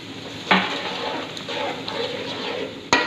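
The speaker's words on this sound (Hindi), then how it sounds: "अब थोड़ा सा मैं इसके अंदर पानी शामिल करती हूँ ताकि मसाला जो है वो अच्छे तरीके से मिक्स हो जाए।" Water poured into frying masala for a kidney bean curry and stirred, with a sharp hiss and clatter at the start and end over a continuous sizzle.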